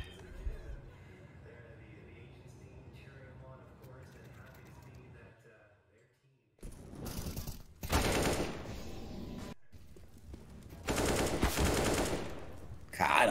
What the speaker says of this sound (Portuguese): Caramba, tá atirando forte Jian Yang, hein, mano?